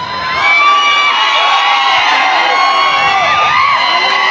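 A crowd at a live music stage show cheers and whoops for a star singer, a dense sustained roar with children shouting, loud and steady throughout.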